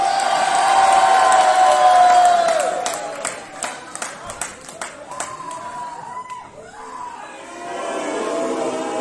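A wrestling crowd at a Power Slam Wrestling show cheers loudly for the wrestler Igor, with whistles and sustained shouting, then a run of rhythmic claps and scattered calls before the roar swells again.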